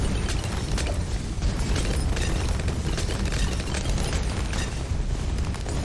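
Striker Jones firing explosive shots on the Logs map in Bloons TD, a dense, continuous barrage of booms and pops that stays loud and steady throughout with no talking.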